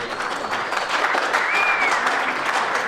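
An audience in Madeira breaks into loud, continuous applause to welcome a speaker arriving from El Salvador, many hands clapping steadily and close, with a faint whistle rising through the crowd noise.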